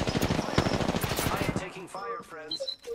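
Rapid automatic gunfire in the Apex Legends video game rattles in a fast burst up front, then gives way to game sound effects and chimes; a voice talks over part of it.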